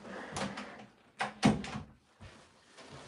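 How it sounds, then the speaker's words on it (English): An indoor door closes in a home studio. A couple of soft knocks and rattles lead into a firm thunk, and a lighter thump follows. The sounds are quiet and close in a hushed room. "Let me close my door."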